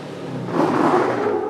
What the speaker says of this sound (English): The truck sounds like it's breaking up.